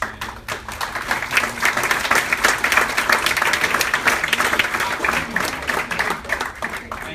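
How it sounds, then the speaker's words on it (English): Audience at a panel discussion on Iran policy gives sustained applause, dense overlapping claps filling the room at moderate loudness, with a faint voice underneath. "So big round of applause to John Mearsheimer, Sanam Naragi Angelini"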